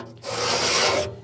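A scraper drags loose dirt along the inside edges of a Yoder YS640s pellet grill. It makes one loud, close, steady rasping stroke lasting about a second, with no voices.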